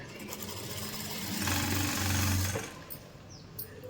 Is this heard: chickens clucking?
no